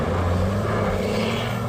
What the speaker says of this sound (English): Obviously, it sounds like a big diesel.